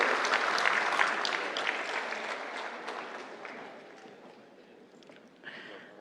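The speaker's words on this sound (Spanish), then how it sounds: "Le damos un fuerte aplauso, por favor, por la excelente participación el día de hoy." A room full of people at a labor law congress claps loudly, the applause gradually thinning and fading out near the end.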